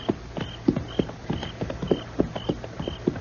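Hooves of a horse ridden fast in an old Western radio drama sound effect make a steady, rhythmic clip-clop at moderate volume, with a faint jingle on each stride and no voices over it.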